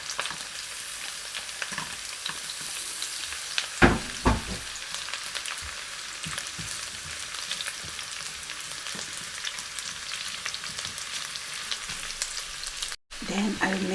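Garlic sizzles and crackles in a hot pan while being stirred, a steady frying hiss with a few sharp scraping clatters from the utensil, fairly close and without talk.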